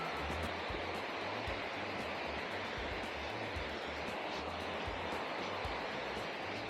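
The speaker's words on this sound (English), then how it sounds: "So we got a series of cascades over here." Waterfall cascades at Brasstown Falls, South Carolina, roaring as a steady, dense rush of falling water close by, continuous and unbroken throughout with no voices.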